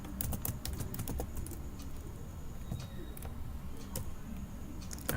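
Python code goes onto a computer keyboard in quick, light, uneven keystrokes, soft and close, with brief pauses between bursts of typing.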